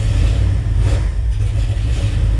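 A 1970s Ford F-250 truck engine with a carburetor in need of overhaul runs loud and close, a deep steady rumble with slight unevenness and no talk.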